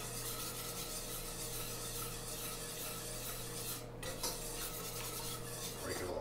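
A spoon scrapes and rubs steadily through a thickening almond cream sauce in a pan, a continuous rasping stir under a low background hum, with no talking.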